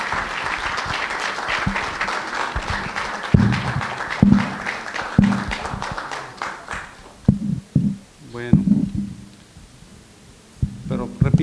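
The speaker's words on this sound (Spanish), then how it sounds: "pido un aplauso que llegue al cielo" Applause in memory of Doctor Armenta at a monthly pediatrics session in Tijuana, sustained clapping from the audience for about seven seconds that tapers into scattered claps and a few voices.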